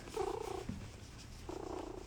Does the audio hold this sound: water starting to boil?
no